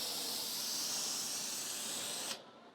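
Paint sprayed onto a guitar body at home, a steady close hiss lasting about two seconds before cutting off abruptly.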